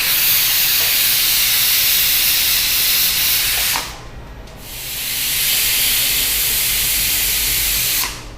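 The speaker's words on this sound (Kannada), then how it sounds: "ಎರಡು ವಿಸಿಲ್ ಆಯ್ತು, ಆಫ್ ಮಾಡೋಣ." A pressure cooker whistle blasts steam in a loud, sustained hiss while tomato bath cooks, breaking off briefly midway before hissing again, then cutting out near the end.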